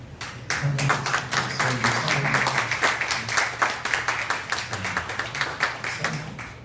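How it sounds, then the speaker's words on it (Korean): Church congregation standing to applaud an elderly pastor during a worship service, a dense run of claps with sharp individual hits that begins after a brief pause and continues steadily. "잠깐만 일어나시면 박수."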